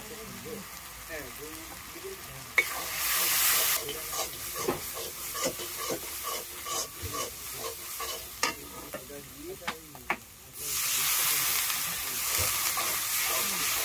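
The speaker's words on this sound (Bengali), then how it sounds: "একটু একটু জল জল দিয়ে দিয়ে কষাচ্ছে" Chicken curry spices with turmeric are stir-fried on a clay stove with splashes of water, giving sizzling bursts and scraping stirs. Someone talks over the frying, and loud hissing swells when water hits the pan.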